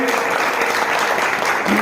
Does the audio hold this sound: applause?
yes